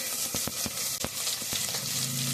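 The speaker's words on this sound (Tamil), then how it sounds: "ஆயில் ஹீட் பண்ணிவிட்டு மஸ்டர்ட் போட்டுக்கோங்க, உளுத்தம்பருப்பு, மேத்தி, 5 சாப் கறி லீவ்ஸ்" Mustard seeds, urad dal, fenugreek and curry leaves sizzle in hot oil in a pressure cooker, giving a dense, close crackling hiss with scattered sharp pops and spatters.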